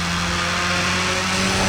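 Steady mid-pitched hum of a Subaru WRX-8 engine in a Need for Speed ProStreet mod, running continuously at an even level for a short stretch with no voices.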